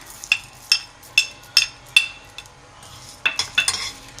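Cumin and whole coriander dry-roast in a pan as a spoon scrapes and taps it, making a steady series of sharp metallic clinks about every half second, with a cluster near the end and no voices.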